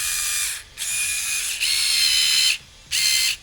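A Ferrex mini electric screwdriver from Aldi whirs in four short bursts of high-pitched motor buzzing, each about a second long with brief silent gaps between, close and fairly loud.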